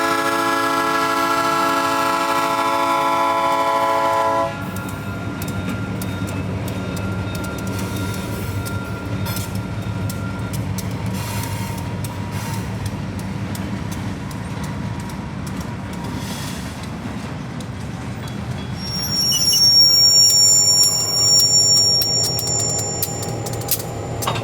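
EMD locomotives haul a festive mine train westward, opening with a long, steady horn blast before the low rumble and rolling clatter of the passing consist carry on, with a shrill squeal rising near the end.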